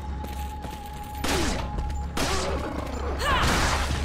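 Gunfire in the video game Resident Evil 4: repeated loud shots and impact crashes with echoing, whooshing game effects, dense and continuous under a steady background hum.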